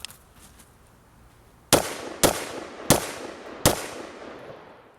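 AR-15 rifle gunshots fired outdoors, four sharp, loud reports spaced about half a second to a second apart, each followed by a short ringing decay, after a quiet stretch of faint background.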